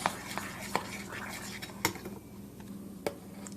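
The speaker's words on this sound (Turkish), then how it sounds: "Daha çırpmaya devam ediyoruz." Cream with milk being whisked in a bowl, busy metallic clinking and scraping with a few sharper knocks against the bowl, close and moderately loud, without speech.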